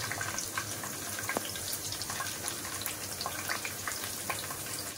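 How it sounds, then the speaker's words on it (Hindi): Chopped green chilies drop into garlic and onion frying until light brown, giving a steady, moderately quiet sizzle with a few faint clicks and stirring touches throughout. "अब ये कटी हुई हरी मिर्च डाल देती हूँ इसमें।"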